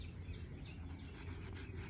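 A knife cuts open a Senthura mango picked from a garden in Chennai, making a faint, continuous rasping and rubbing sound with a steady sawing texture and no speech.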